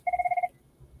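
A telephone rings indoors with a fast electronic trill of about eight rapid pulses in one short burst, then stops, leaving quiet room tone.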